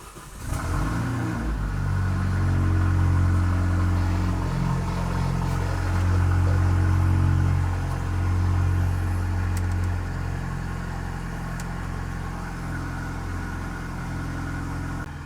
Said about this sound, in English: This car is completely straight piped, so let's hop in and start our drive.